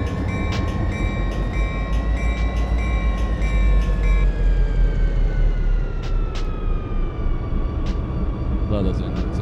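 A diesel locomotive engine, an SD70ACE in a train video game, rumbles steadily with low drone and sustained tonal hums, a horn-like whine sliding in pitch, with faint voices underneath.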